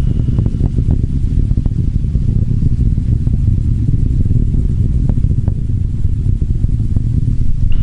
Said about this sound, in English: Vehicle is starting back up to full thrust.